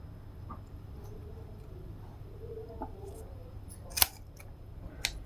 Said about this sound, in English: I cut off 2 of the teeth on an angle